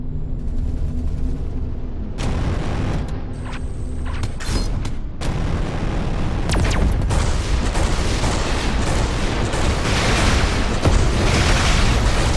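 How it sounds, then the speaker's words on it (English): Torpedoes launching and detonating in the space combat game Everspace 2: loud booming blasts and sharp bursts pile up into a continuous, heavy barrage of explosions. "More torpedoes were just fired"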